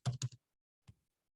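A few quick computer keyboard keystrokes typing a command: a burst of three close clicks, a short pause, then one more click, close and fairly faint, with no voices.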